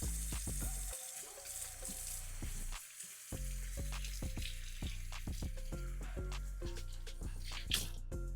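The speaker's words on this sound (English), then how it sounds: "So what I do, I kind of sear it on a pan" Meat sears in a hot pan with a steady, close sizzle and crackle, broken by scattered pops, drips and brief clinks over several seconds.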